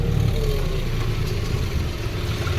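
A tractor engine rumbles steadily at a low idle, loud and close, a constant diesel drone with no talking.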